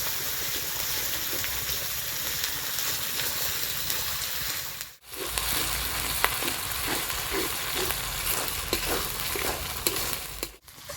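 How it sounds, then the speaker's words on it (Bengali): Ginger and garlic paste fry in oil with onions in a pan, giving a close, continuous sizzle with repeated stirring scrapes and two brief pauses. "আদা ও রসুন খুব ভালো করে ভেজে নিয়েছি"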